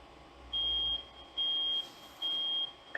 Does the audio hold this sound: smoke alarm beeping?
yes